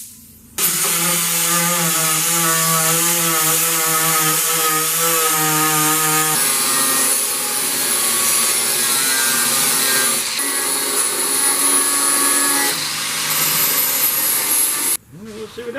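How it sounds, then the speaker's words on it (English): An angle grinder cuts a metal lip off the front valance area of a Corvair. It makes a loud, steady whine that shifts pitch partway through as the disc bites, runs for about fourteen seconds, then stops abruptly. "Setting this lip down so I can get the grinder in there and cut it off."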